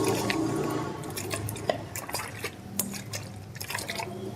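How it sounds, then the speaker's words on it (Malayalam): Water splashes and trickles as it is poured into a bottle and shaken to mix a farm preparation, giving a steady close liquid sloshing with small drips and knocks throughout. "ഞാൻ കുറച്ച് വെള്ളം ഒഴിച്ചിട്ട് ഇതിനൊന്ന് ഷേക്ക് ചെയ്യണം നല്ല രീതിയിൽ"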